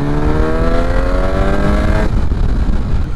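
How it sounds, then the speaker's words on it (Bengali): A motorcycle on a road accelerates hard, engine pitch climbing steadily through a gear before a shift around the two-second mark, loud and close with wind rush throughout. "একটু টানি বাইকটাকে।"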